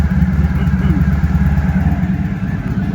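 A Honda ST1100 motorcycle idles at about 850 RPM with an ABS fault showing and the charging system under check, giving a steady, close low rumble throughout.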